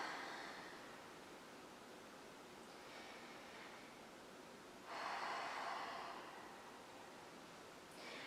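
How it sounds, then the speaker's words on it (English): Slow, deep breaths during a yoga session, soft and close, with steady airy inhales and exhales and one stronger breath near the middle, alone with no talking. "Breathe deeply."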